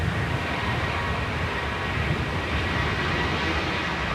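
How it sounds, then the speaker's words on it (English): Ryanair airliner departing Manchester Airport, a steady, broad jet-engine roar heard from a distance that stays constant with no voices over it. "Ryanair departing now."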